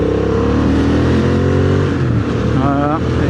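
Engines rumble past at close range as tractors drive by on a country road in farmland, a low chugging drone with shifting pitch, and a voice speaks over it.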